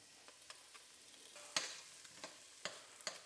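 Prawns frying in butter and garlic in a pan, a faint steady sizzle broken by a few sharp spits and pops spaced irregularly, with no talking.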